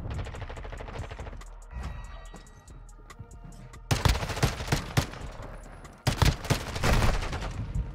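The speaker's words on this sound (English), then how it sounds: "He's shooting my body, bro." Rapid enemy gunfire in a ranked multiplayer video game shooter, dense automatic bursts throughout, growing louder and more intense in two heavy volleys in the second half.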